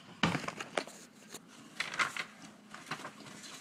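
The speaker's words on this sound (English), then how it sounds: "Tear out! Crumple!" A page is torn out of a journal and crumpled, giving sharp ripping bursts followed by crackling, rustling paper crunches, close and fairly quiet.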